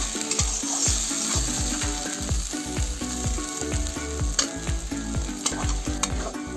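Spice masala for a potato and eggplant curry being sautéed in a pan, a loud steady sizzle broken by rapid rhythmic scraping strokes of a spoon, close and without voices.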